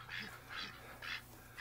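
Ducks quack in three quick, nasal bursts on a cold day, faint and somewhat distant over a low background hum.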